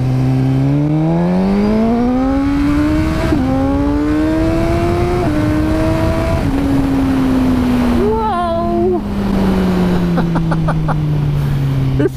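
A Suzuki GSX-R1000R motorcycle engine revs repeatedly with a rising, droning pitch, broken by quick auto-blipper shifts, then settles into a steady falling tone; loud and close throughout.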